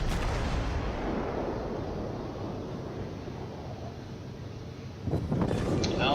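Battleship main guns fire a salvo in the naval game World of Warships, a heavy booming roar that rumbles and slowly fades, then a sharper blast near the end, with wind-like noise throughout and no talking.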